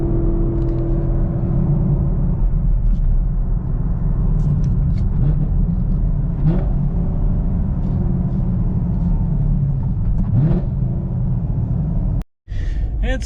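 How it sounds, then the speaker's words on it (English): A Chevrolet Camaro drives along the road, its engine rumbling low and steady from inside the cabin with a constant road whir, a brief revving swell partway through, and a short cut in the sound near the end. "Man, it's a bad idea driving this car."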